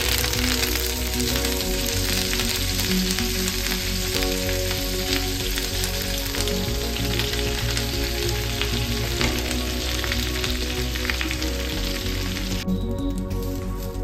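Curry leaves frying in hot oil in a pan: a loud, continuous crackling sizzle that holds steady throughout with no voices.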